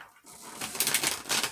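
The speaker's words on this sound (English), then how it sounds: "I keep shuffling until the spirit tells me to stop" Tarot cards being shuffled close by, a quiet riffling, flapping burst of papery clicks after a brief pause, faint and short.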